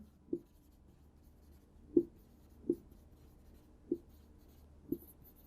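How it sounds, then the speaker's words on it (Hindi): Chalk or marker strokes on a board during a chemistry lecture: five short, distinct taps and scrapes spaced about a second apart, close and clear against a quiet room with no speech. "मैं यहां लिख रहा हूं"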